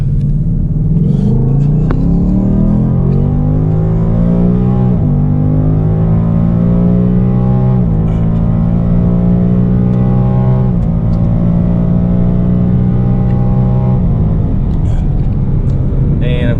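A Foxbody Mustang engine with E85 and stock exhaust revs and pulls hard, its droning pitch climbing through several gear changes, loud and close throughout with a constant rumble.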